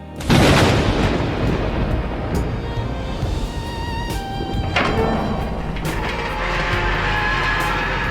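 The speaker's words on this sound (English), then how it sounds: "Thunder roared," Deep thunder rumbles in as a sound effect in a spoken story, with a loud heavy boom at the start followed by a long rolling roar that keeps going for several seconds.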